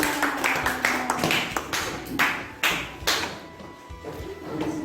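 Schoolchildren clap their hands in a classroom in a loose, uneven patter of claps with a few louder bursts, mixed with desk taps and thuds as they sit back down.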